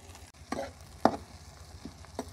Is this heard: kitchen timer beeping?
no